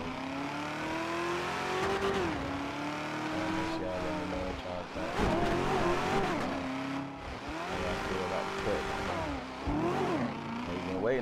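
A 1986 Cutlass on 28-inch Forgiato wheels revs its engine loudly by the beach, the note rising and falling in repeated pulls over a steady low rumble, with people talking nearby.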